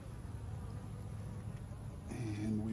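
Honey bees buzz faintly in a steady, low drone inside a hive, with a slightly stronger hum near the end.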